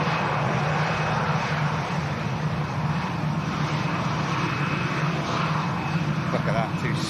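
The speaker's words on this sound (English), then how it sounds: "Qatar 350, beautiful, beautiful aircraft about to touch down, ladies and gents." A Qatar Airways A350 comes in to land at Manchester Airport, its engines a steady, broad roar that holds loud and even throughout, with a voice talking over it.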